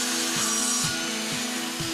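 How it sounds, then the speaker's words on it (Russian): Metabo KS 216M miter saw, a 1350 W laser-guided model, cuts through wood with a steady close-up whine and rhythmic rasping strokes repeating about every half second. "Удачное сочетание высокой точности и мощности позволяет пиле отлично справляться с выполнением самых аккуратных распилок."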